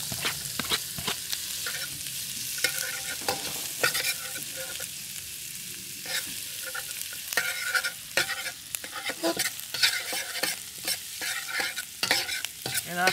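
Onion fries in butter over medium heat while being stirred, with a constant sizzle broken by frequent sharp scraping and clattering stirring strokes, close and fairly loud.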